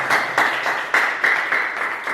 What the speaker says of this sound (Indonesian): Tepuk tangan buat pembicara kita semua.